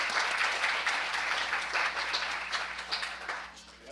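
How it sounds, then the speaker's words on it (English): Attendees at a symposium on the molecular characterization of edible biodiversity applaud a presenter. The moderate, continuous clapping of a modest audience fluctuates slightly and then gradually thins out over a few seconds. "Let's give a round of applause to our presenter."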